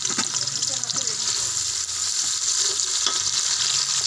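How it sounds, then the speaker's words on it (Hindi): Onions fry in hot oil with a loud, steady sizzle and occasional stirring scrapes for a sabzi of fried mongre and potatoes. "अब हम इस ऑयल में वो डाल देंगे प्याज को फ्राई करेंगे।"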